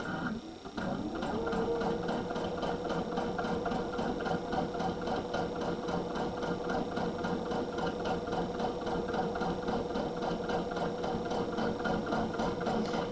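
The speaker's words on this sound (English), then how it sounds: "You can sew at almost a normal speed." A sewing machine runs steadily, stitching binding onto a quilted tabletopper, its motor giving a constant whirring hum with a fast mechanical rattle. It starts after a short pause and then keeps going at an even speed from close by with no talk.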